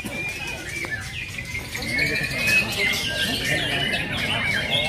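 Many murai songbirds sing and chirp at once in shrill, overlapping bursts at an indoor bird-singing contest, with a busy crowd murmur underneath.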